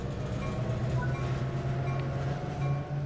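Locomotive in a train simulator game throttling up and pulling away under light power, a steady low diesel engine drone with rail rumble, continuous and fairly close, no talk.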